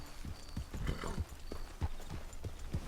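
Horse hooves clip-clop in the Red Dead Redemption 2 video game, a steady run of close, distinct knocks at a walking rhythm, with no talk over them.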